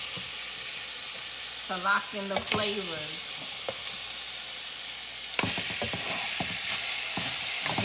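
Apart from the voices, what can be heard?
goat meat searing on high heat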